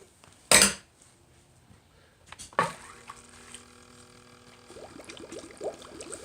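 Water gushes through a silt scrubber tube while gold-panning concentrates are washed, opening with two sharp metallic clanks and then giving way to a faint, steady rush of running water with light rattling.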